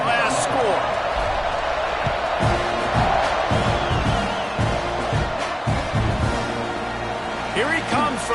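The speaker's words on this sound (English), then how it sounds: "this crowd is buzzing after that last score" Football stadium crowd at a Tulane vs Texas A&M game buzzing after a score, a steady loud roar with scattered whoops and cheers, under a play-by-play announcer talking.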